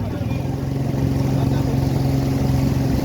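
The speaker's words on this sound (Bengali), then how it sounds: "যথেষ্ট ফোর্স আছে কিন্তু ইঞ্জিনের এই বোটের" A motorboat engine drones on a hill river, a loud, steady low-pitched hum throughout the clip.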